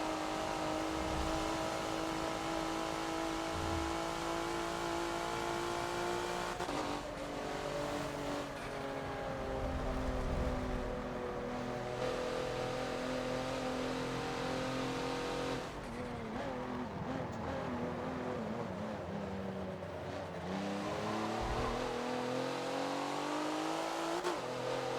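A race car engine in the Forza racing game revs hard and continuously, its pitch climbing and dropping sharply through downshifts on the Rio National reverse circuit, loud and constant with no talk over it.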